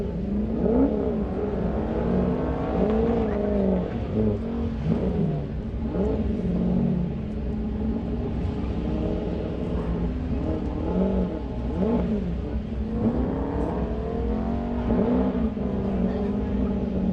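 Race car number 3 climbing a hill course at a King of the Mountain event, engine revving hard through repeated gear changes in a rising and falling whine that holds strong throughout, with an announcer talking over it.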